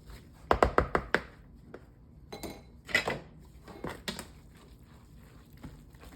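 A spoon clinks and taps against a dish as cornbread chicken dressing is mixed with water. A quick burst of close knocks comes first, then sparser scrapes and soft thuds, with no talking.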